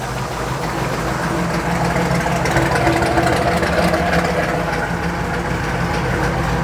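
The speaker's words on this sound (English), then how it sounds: "right now, it's actually idling" A steady, rumbling carbureted engine with a Holley carburetor running too rich idles around 700 rpm continuously at a constant low pitch, close and fairly loud, with no voices.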